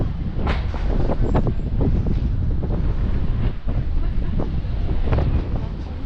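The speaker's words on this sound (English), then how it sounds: "It is ridiculously windy" Strong gusts of wind buffet the microphone outdoors, a loud, continuous low rumble with surging swells and no clear speech.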